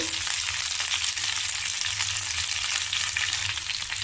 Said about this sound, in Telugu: క్యాప్సికమ్ ముక్కలు కొద్దిగా మగ్గించుకోవాలి